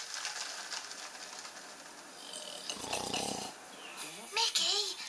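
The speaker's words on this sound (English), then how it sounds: "stop snoring" A person snoring indoors while rain falls outside, the rumbling snores rising in short bursts near the middle and end over a steady background hiss.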